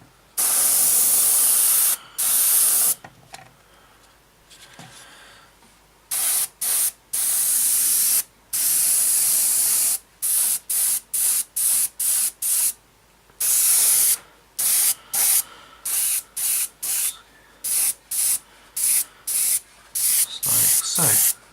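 An airbrush sprays a base coat onto a 1/48 Hasegawa Messerschmitt Bf109E-3 scale model in many short, loud hissing bursts of varying length separated by brief pauses, with no talk over it.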